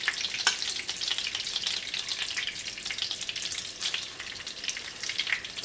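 Wiener schnitzel cutlets fry in a pan of hot fat with a steady, close, crackling sizzle that runs continuously and unbroken, with no voices.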